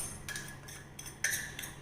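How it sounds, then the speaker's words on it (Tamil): A spoon stirring and mixing food in a bowl, giving four faint, evenly spaced metallic clinks against the dish in a quiet room. "ஒரு ஸ்பூன் எடுத்து மிக்ஸ் பண்ணி விடு"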